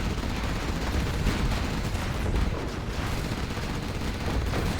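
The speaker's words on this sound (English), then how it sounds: "Artillery's coming in." Artillery fire rolls through a competitive strategy video game match: a dense, continuous roar of overlapping blasts and rumbling impacts that stays loud and steady throughout, with no clear gaps between hits.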